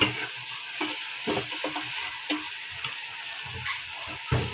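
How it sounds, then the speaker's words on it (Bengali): Lentils for dal frying with turmeric in a pan as they are stirred, a soft continuous sizzle with scattered scraping and tapping of the spoon, fairly quiet and without speech. "ডালটা একটু ভুনতে থাকি আমি"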